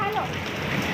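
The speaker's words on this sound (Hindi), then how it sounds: "गाइस देखो बारिश कितनी तेज पड़ गई है।" Heavy rain mixed with hail pours down in a dense, continuous patter on nearby surfaces, loud and close, with a voice faintly present underneath.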